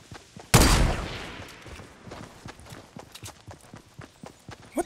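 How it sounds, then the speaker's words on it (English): A single sharp gunshot blast in Fortnite Battle Royale is followed by a fading tail and a run of lighter rapid clicks and footstep-like taps, moderately loud with no talk over it. "Oh, gunshots. Northeast."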